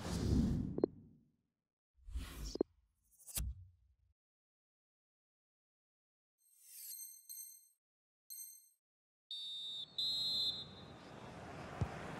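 A referee's whistle at the half-time break of a Leeds vs Tottenham football match gives several short, shrill blasts in quick succession, with brief whooshes and clinks before and a wash of crowd-like noise after.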